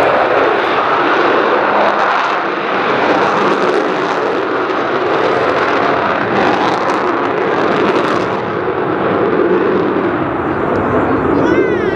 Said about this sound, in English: when they turn on the taps on those 4 big Olympus engines